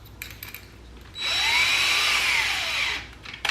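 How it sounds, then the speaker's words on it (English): A power drill runs steadily for about two seconds, whining loud and close while a screw or bit goes into kitchen cabinets during installation, with faint handling noises before and after. "when you're setting your drill bit in here, you don't want to blow through the other side"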